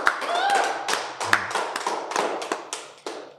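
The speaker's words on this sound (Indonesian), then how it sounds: "Sekali lagi tepuk tangan dong buat Bapak Pendeta Frankie Lumenta hari ini." An audience at a church gathering breaks into hand clapping for a pastor, a fairly close, uneven patter of claps with a few louder individual slaps, no talking heard.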